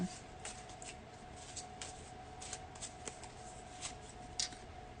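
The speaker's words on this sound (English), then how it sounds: "You saw me shuffle, right?" Tarot cards shuffled by hand in a steady run of soft riffling and tapping bursts, close and fairly quiet, with no talking.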